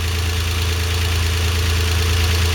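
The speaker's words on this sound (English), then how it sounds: "while the engine is running" A car engine idling steadily while the ignition coil's amperage is measured, a loud continuous low rumble with an even pulsing beat and no breaks throughout.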